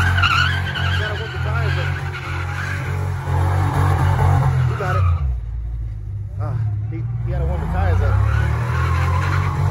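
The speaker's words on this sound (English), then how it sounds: "Gotta warm the tires up." A Pontiac G8 spins and skids its tires at a street sideshow to warm them up, with loud continuous engine roar and squealing rubber close by while people talk and shout over it.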